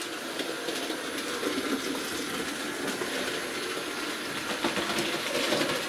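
A Hornby model locomotive runs over Peco points in a fiddle yard, giving a steady close whirring hiss with faint mechanical ticks throughout and no talk.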